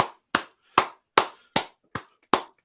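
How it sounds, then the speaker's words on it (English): A few single hand claps from a radio host in a studio, eight crisp, evenly spaced claps at a brisk steady rhythm, close and loud with silence between them and no talk. "I like giving you a few claps afterwards."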